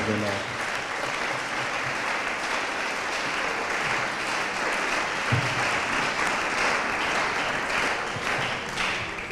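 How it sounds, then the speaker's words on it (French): Steady audience applause fills a conference hall, honoring the speakers at a lecture on individual rights, dense and sustained throughout with a faint voice briefly surfacing beneath the clapping. "vous pouvez applaudir, et pour vous, et pour les intervenants"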